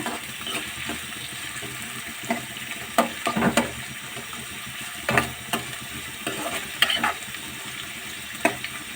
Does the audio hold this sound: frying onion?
yes